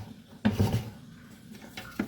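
A utensil scrapes and stirs onions around in a pot for French onion soup, with a couple of sharper knocks and scraping strokes close by, no talking.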